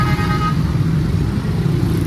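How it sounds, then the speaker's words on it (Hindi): A long queue of cars backed up in heavy road traffic, giving a loud, steady, close engine rumble and road noise, with a brief horn-like tone near the start. "ट्रैफिक इतनी है कि अभी तक निकलना महाल हो गया।"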